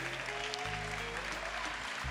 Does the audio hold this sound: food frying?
no